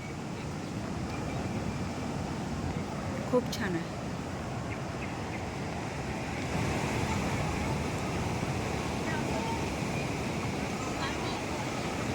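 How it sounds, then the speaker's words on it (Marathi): Sea waves surging around Tanah Lot temple in Bali give a steady, broad roar of surf with wind buffeting the microphone, while a person speaks briefly over the constant wash. "लॉर्ड टेम्पल पूर्ण पाणी आहे किती सुंदर दिसतं ना पाण्याच्या लाटा तर नुसत्या उसळतात"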